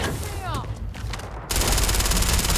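Gunfire in the video game Starfield while the player is boosting: a fast, dense burst of shots sets in suddenly after a short stretch of game noise and keeps going loud.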